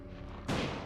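A gunshot rings out in Resident Evil 4, a single sudden loud blast landing a headshot partway through, its broad burst trailing off over a low tonal game soundscape.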